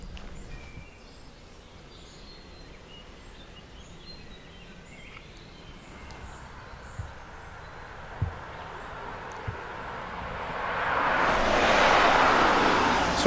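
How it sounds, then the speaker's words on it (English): Road traffic passes near St Mary's Church in Downe, a low steady rumble with faint birdsong and small knocks, swelling into a louder whoosh as a vehicle approaches near the end. "Sorry about the traffic."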